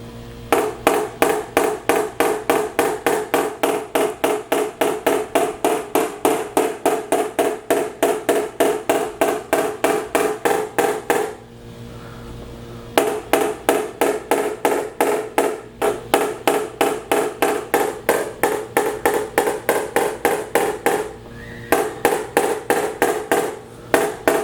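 Fast, rhythmic metallic tapping of a blending hammer on a car panel during glue-pull dent repair, close and loud, continuing in long runs with two brief pauses.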